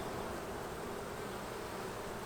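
Honey bees buzz densely on a hive frame of new wax and brood, a loud, continuous, even drone filling the whole moment without pause.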